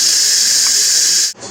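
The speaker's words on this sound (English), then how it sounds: "I'm going to let the steam off" An Instant Pot pressure cooker venting steam with a loud, steady, close hiss that holds evenly, then cuts off abruptly near the end before a short, softer burst.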